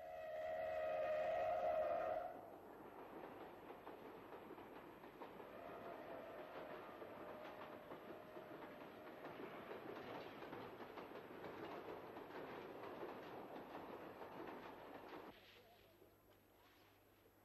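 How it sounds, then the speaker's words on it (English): A WG-class broad-gauge steam locomotive hauls a rake of old steam carriages in India, a steady rumbling, rattling train passage at moderate distance under narration. A loud whistle-like tone opens it, and the noise drops away near the end. "the WG here is hauling a rake of old steam carriages as a last-minute substitution for a failed electric suburban train"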